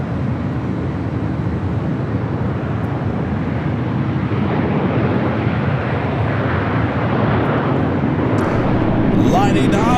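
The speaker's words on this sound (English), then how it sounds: "This Delta flight heading to Raleigh, Durham, flight 508, 737-900ER" A Delta Boeing 737-900ER takes off from runway 24 left at Los Angeles International Airport, its jet engines giving a loud, steady, wind-buffeted roar that holds for the full ten seconds and swells slightly near the end.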